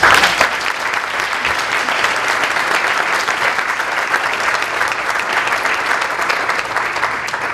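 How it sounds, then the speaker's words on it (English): Sustained applause from a forum audience honoring a panel of speakers at a college and university council event, dense steady clapping filling the room at a loud, even level throughout. "Please, let's give them a round of applause."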